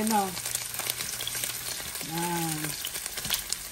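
Sautéing in a ceramic pan, a soft continuous sizzle with scattered light scraping and stirring ticks, fairly quiet and close, while a voice sounds briefly at the start and again midway.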